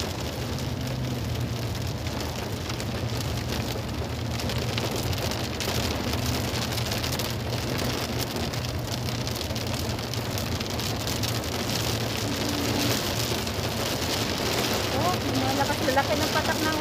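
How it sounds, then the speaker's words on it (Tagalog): Heavy rain with large drops pounds a surface in a dense, steady roar with no pauses, and a voice talks faintly underneath. "Laki ng patak ng ulan, ha?"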